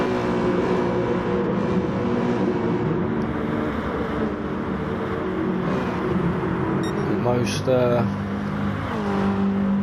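Sim racing cars running nose to tail in a league race, a steady loud engine drone with overlapping revs and a brief higher whine near the end, under continuous commentary.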